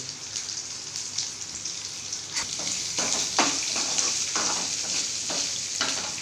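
Onion, curry leaves and chili sauté in a hot pan, crackling and hissing steadily while a spatula stirs with repeated scraping strokes that briefly brighten the sizzle.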